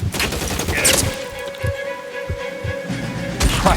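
Gunshots in the 1940s detective game LA Noire, several loud sharp cracks spaced irregularly with a ringing tone between shots.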